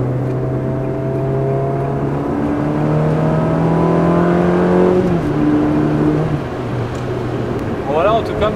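A Ferrari 360 Modena engine climbs steadily through rising revs while accelerating past a small Dacia on the road, heard from inside the car, loud and continuous, with someone talking over it.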